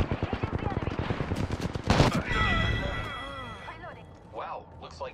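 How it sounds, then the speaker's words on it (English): Rapid machine-gun bursts crackle loudly in a video-game firefight as the player takes incoming fire, followed by a sustained whooshing burst and shorter electronic effects, with character voices speaking over parts of the action. "I am taking fire, friends."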